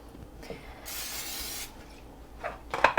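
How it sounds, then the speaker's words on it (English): A single close burst of cooking spray hisses over a tray of zucchini fries for under a second, followed by faint handling clicks and taps. "You're going to take your cooking spray and just give them"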